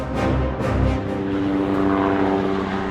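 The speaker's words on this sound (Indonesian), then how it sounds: "Dalam operasi militer modern, helikopter ringan memiliki peran strategis." Light military helicopter in flight, a steady loud rotor and engine drone with a heavier low thump early on, continuous throughout with no voices.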